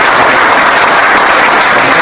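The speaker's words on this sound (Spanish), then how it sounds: "un gran aplauso" Loud, dense applause from an audience at a nature talk, a continuous wash of clapping held close and steady throughout.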